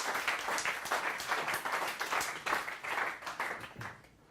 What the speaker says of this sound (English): Big round of applause in advance.